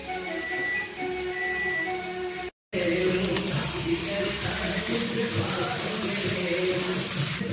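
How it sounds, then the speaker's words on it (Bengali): Fried raw jackfruit stir-fried with potatoes and spices in an oily pan for a prawn curry, giving a steady soft sizzle with light scraping and stirring throughout, broken by one brief silent gap. "এঁচড়টা দিয়ে ভালো করে কষে নিচ্ছি বন্ধুরা"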